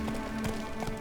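Roach the horse in The Witcher 3 galloping, quick rhythmic hoofbeats, faint and brief, over a steady low background tone.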